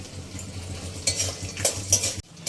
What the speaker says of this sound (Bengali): এক বাটি বাদাম নিয়েছি ওটা একসাথে দিয়ে আর একটু ভেজে নেবো